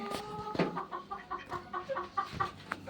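A hen clucks in a series of short, soft, irregular calls, fairly close, with no talking.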